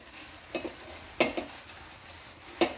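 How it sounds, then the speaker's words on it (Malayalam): Beaten rice (aval) and egg are stirred in a steel pan over low heat, with a quiet continuous sizzle broken by three distinct scraping strokes of the spoon against the pan. "ഇത് നല്ലപോലെ മിക്സ് ചെയ്യാം."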